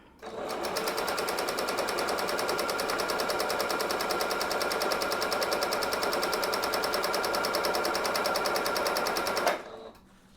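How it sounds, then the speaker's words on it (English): Sewing machine stitching fluffy tutu material, a steady fast rapid-fire whir running loud and unbroken for about nine seconds before stopping abruptly. "I'm gonna go ahead and hold my one end and then start stitching"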